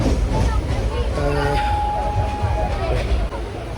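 A passenger train at Kalyan station gives a loud, continuous rumble of rolling cars with a sustained tonal whine, heard over nearby crowd noise and talk.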